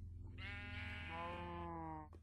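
A single sheep in the Minecraft video game bleats once, a clear, drawn-out wavering cry lasting about two seconds, heard close and alone at low level.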